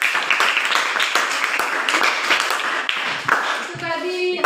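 A crowd claps steadily for a few seconds, dense applause fading near the end as a tone cuts in.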